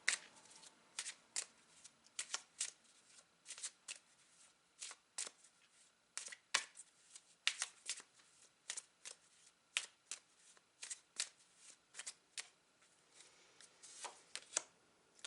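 Tarot cards are shuffled close up in quick, crisp riffling bursts repeating irregularly throughout, with no voices.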